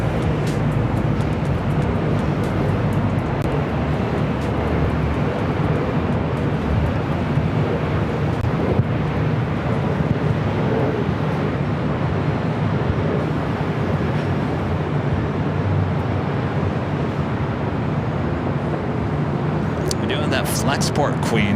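Boeing 747-400 freighter, Flexport Queen flight 8350, taxiing on runway 24 left at LAX: a loud, continuous low jet rumble and roar fills the whole stretch, with wind buffeting and a voice talking over it.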